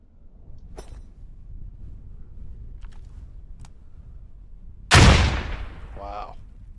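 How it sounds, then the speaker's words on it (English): A grenade goes off loud and close in the Squad firing range, a sharp blast with a rumbling tail, preceded by a few faint scattered gunshots over a steady low background hum. "Another grenade."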